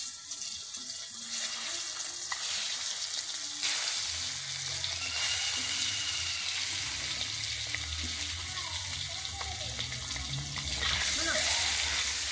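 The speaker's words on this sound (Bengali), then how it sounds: "আমি ডিমগুলোকে ভেজে নিচ্ছি।" Eggs fry in hot mustard oil in a pan for an egg curry, giving a steady, close sizzle throughout with occasional louder crackles and stirring sounds.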